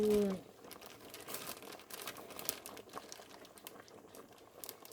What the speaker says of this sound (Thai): เราจะใส่น้ำปลาลงไปด้วย